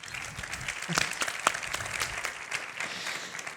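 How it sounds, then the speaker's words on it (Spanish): Audience at a community debate panel in Fuenlabrada applauding the guests, a moderate, fairly distant patter of clapping with a few sharper individual claps, continuing evenly throughout. "lo primero que os voy a pedir es un aplauso para ellas"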